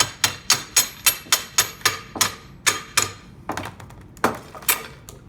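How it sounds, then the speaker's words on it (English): A hammer taps bar clamps along wooden boards for a plant stand side piece, a quick even series of sharp metallic knocks that slows into a few scattered, softer strikes. "If they have trouble moving, use a hammer."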